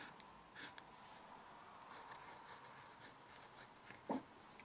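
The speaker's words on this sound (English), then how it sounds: "I'm just gonna try the Sailor pen again so you can maybe hear the feedback" A Sailor fountain pen nib scratches softly across paper, a very faint, close, steady writing sound with one small tap near the end and no voices.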